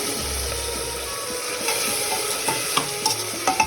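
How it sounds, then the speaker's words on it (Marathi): A spoon stirs mixed vegetables (peas, beans, cauliflower, carrot) frying with onion and tomato in a pan, with soft sizzling under repeated scraping clicks that grow more frequent toward the end. "या सर्व प्रकारच्या भाज्या आहेत त्यात वटाणे फरसबी फ्लावर गाजर अशा सर्व मिक्स भाज्या त्या टाकून देऊया"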